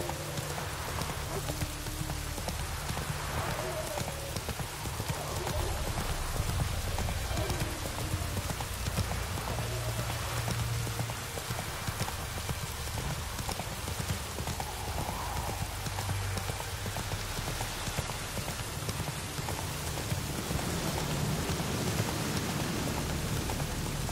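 Roach, Geralt's horse in The Witcher 3, gallops in the rain. Steady hoof clip-clops roll under a constant wash of rainfall, close and continuous, with faint low rumbling and no speech.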